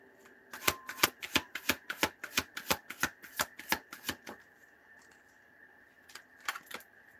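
Tarot cards being shuffled by hand: a quick run of about fifteen crisp riffling snaps in steady rhythm, close and clear, then a pause and two or three more snaps, with no talking.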